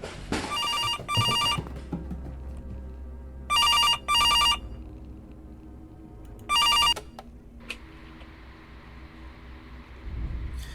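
In a horror video game, a telephone rings in repeated pairs of bright electronic trills with pauses between them. A lower ambient hum runs underneath, and a faint steady tone comes in near the end.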